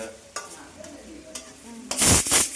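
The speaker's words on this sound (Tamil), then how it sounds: "நறுக்கிய இரண்டு பெரிய வெங்காயத்தை போட்டு நாம் நன்றாக வதக்க வேண்டும்" Two chopped large onions sauté in a pan at home, a soft stirring scrape building into a loud burst of sizzle near the end of the short stretch, with no talk.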